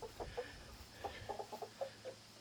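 Chickens on a homestead clucking in short, irregular bursts, a handful of soft, moderately close clucks scattered over a quiet outdoor background with no talking.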